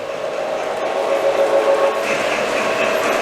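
A model coal-burning Union Pacific engine hauling oil cars runs through a museum diorama, giving a steady rolling rumble with a brief whistle-like tone in the middle.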